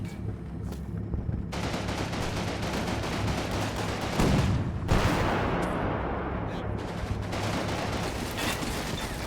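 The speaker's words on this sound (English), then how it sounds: "Panther continues to kill advancing infantry." Continuous, dense machine-gun fire from a Panther tank against infantry in the WWII strategy game Combat Mission, loud and relentless throughout with heavier booming shots mixed in.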